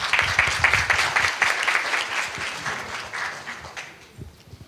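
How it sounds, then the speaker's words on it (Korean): Audience applause at a SketchUp 3D scanning and photogrammetry conference session, a dense, steady crowd clapping that gradually thins and fades out over a few seconds. "수고해 주신 지오시스템 조대성 차장님께 큰 박수 부탁드립니다"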